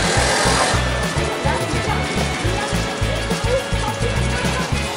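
An electric meat grinder works beef for cheeseburgers, giving a loud, steady motor whir with rhythmic churning pulses that repeat throughout.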